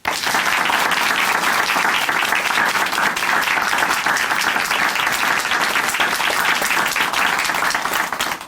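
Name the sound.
studio audience applause on Christian TV show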